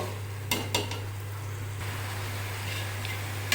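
Meat frying with spices in a pot for biryani gives a steady sizzle over a low hum, with a few spoon clinks against the pot near the start.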